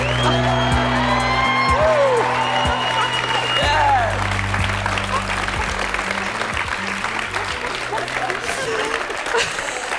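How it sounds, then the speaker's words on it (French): Studio audience of a TV talk show applauding loudly, with whoops and cheers mixed into continuous clapping over a musical backdrop. "Je vous demande d'applaudir très très fort Marie relookée."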